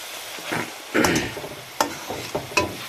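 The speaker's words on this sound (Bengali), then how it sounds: "মশলাটা ভাজা ভাজা করে লাল করে নেবো একটু।" A spice masala with ginger and garlic fries in a pan while a spoon stirs it, giving a soft sizzle broken by several sharp scraping strokes.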